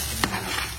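A sugar mixture for homemade candy is stirred in a wok, giving a steady sizzling scrape with a soft clack, close and continuous, with no talk.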